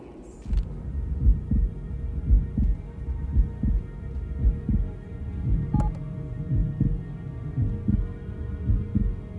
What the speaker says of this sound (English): You could play the piano by that heartbeat of his.